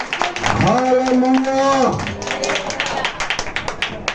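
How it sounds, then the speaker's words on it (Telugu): A congregation at a Christmas church service claps hands in a quick steady rhythm right after a voice sings out loudly; the claps are close and crisp. "కొట్టు చప్పట్లు"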